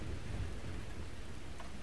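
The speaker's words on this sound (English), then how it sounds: "it is a icky, terrible, rainy night" Ambient rain and thunder on a stormy night in the game Starfield, a dense, even wash of rainfall with a low rumbling undertone, steady and moderately quiet throughout without talk.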